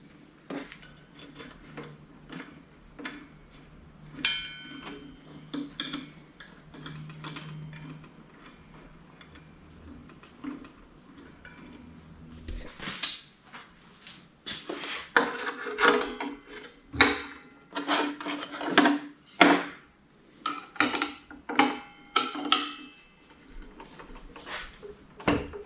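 Metal clicks and ticks come as a wrench tightens the blade nut on a DeWALT DWE7491RS table saw, starting sparse and quiet and then turning into louder, denser clinks and clatter near the end, with no voice.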